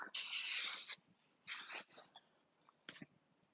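Three bursts of cleaner sprayed onto a car headliner: a long hiss of nearly a second, a shorter one, then a brief final puff, close and fairly loud.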